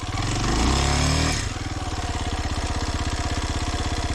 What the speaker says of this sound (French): Et je vais lui monter sa moto.